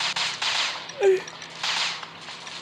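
Gunfire in a first-person shooter game, with a few sharp bursts of shots at the start and end around a brief thud in the middle, fairly close and loud, with no voices.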